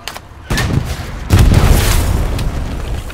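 Satchel charge explosion in the Hell Let Loose World War II video game, heard as two heavy booms about a second apart, the second louder, each trailing into rumbling battlefield noise.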